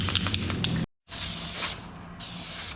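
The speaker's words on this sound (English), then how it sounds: "So we're gonna get to spray paint." An aerosol spray paint can hisses in bursts near a Cummins diesel truck engine being built, with rattling before a brief silence, then two long sustained sprays.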